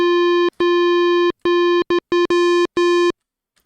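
A chiptune-style FM synth tone with its feedback turned down plays a steady buzzy pitch in a rhythmic pattern of sustained and short repeated notes, loud and alone.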